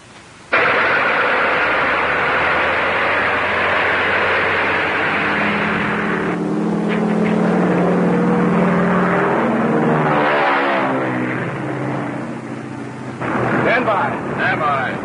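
A propeller plane engine starts and roars up loudly and steadily, a deep droning rumble that holds for most of the stretch, with voices speaking over it near the end.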